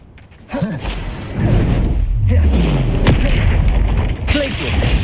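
Bombarda spell explosions in the Hogwarts Legacy video game land as heavy booming thuds and bursts. Several loud blasts rumble over continuous game noise.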